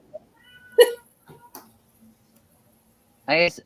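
A cat meows clearly near the end, a drawn-out harmonic cry, after some faint scattered sounds and brief quiet murmurs earlier.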